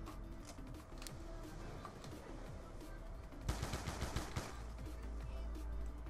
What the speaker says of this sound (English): Just keep shooting these guys.